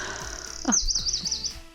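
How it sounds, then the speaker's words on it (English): Birds sing loudly along the Brittany coast, one bright warbling call sweeping and trilling for about a second over a faint outdoor background, with no talking. "Wow, the birds here are loud."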